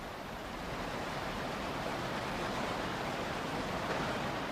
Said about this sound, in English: Stimulated to begin repairs by the sound of rushing water